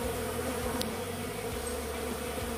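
Bees buzz steadily around a bait box used to catch a swarm, a continuous droning hum that stays close and even throughout, with no voices.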